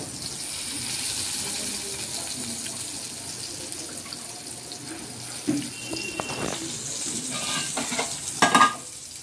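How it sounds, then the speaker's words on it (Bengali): Soybean chunks fry in a home kitchen pan, a steady soft sizzle with stirring, scraping and a few clinks of a utensil toward the end. "এবার সয়াবিন ভাজা হবে।"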